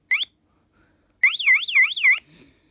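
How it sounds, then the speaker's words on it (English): A short electronic chirp, a brief pause, then a loud, close warbling siren tone from a 1996 CQR Cequra MK2 alarm bell box sweeps up and down rapidly for about a second before cutting off. "So that's what it sounds like in the actual siren trigger."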